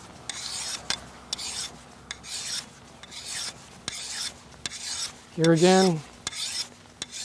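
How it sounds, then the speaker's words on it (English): A blade edge is rasped across a sharpening stone to remove the burr, giving repeated short scraping strokes at a steady rhythm, close and moderately loud, with a brief tonal squeal near the end. "Now if you have a burr, just slightly go across the bottom, absolutely flat, and remove the burr."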